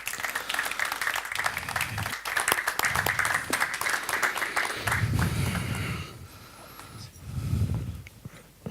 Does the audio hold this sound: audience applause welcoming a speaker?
yes